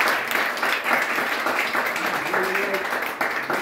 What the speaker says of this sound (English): Give a big round of applause for coming.